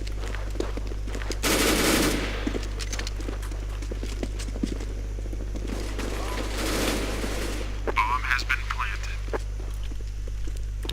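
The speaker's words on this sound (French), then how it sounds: "J'ai tiré quand même pas mal de balles dessus quoi" Automatic gunfire in the video game CS:GO rattles out in two rapid bursts separated by quieter stretches, with a steady game hum and voices talking over it.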